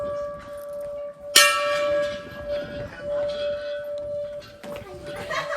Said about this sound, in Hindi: चलो रे घंटी भी बजाओ, चलो रे घंटी बजाओ।